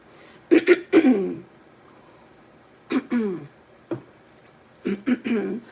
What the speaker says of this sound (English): I'm just going to clear my throat 1 second